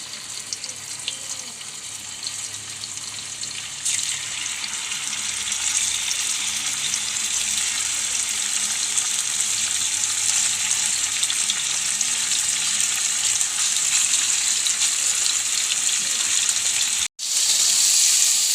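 Kora fish fries in hot oil in a pan with a loud, continuous crackling sizzle that grows fuller after the first few seconds and holds steady, cut by one brief dropout near the end.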